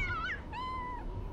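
Two close, clear cat meows from Postal 2, a short rising call followed by a longer drawn-out one over a low background rumble.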